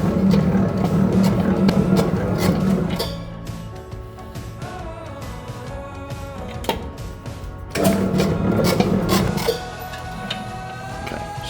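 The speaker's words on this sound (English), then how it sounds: "we're going to mix it together and knead it. So it's going to be in this mixing machine" A mixing machine kneading goat bread dough, giving a close, rhythmic mechanical whirring with repeated thumping clicks. It runs loud for a few seconds, eases quieter in the middle, then surges again.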